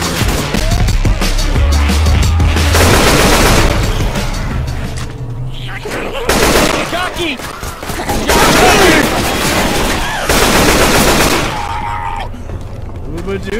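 Rifle fire in Left 4 Dead 2 comes in repeated loud bursts of rapid shots, mixed with other gunfire and game noise, while several voices talk over the shooting.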